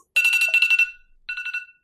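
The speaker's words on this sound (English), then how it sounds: "turn off that alarm that's telling me that it's time to stream a couple minutes too late" A phone alarm sounds two short bursts of bright, rapidly pulsing electronic beeps, close and clear against silence.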